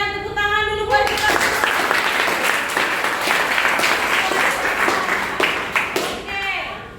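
A classroom of students claps together after the teacher's prompt, a loud burst of many hands that starts abruptly after a brief voice and holds steady for several seconds before tapering, with a voice resuming at the end.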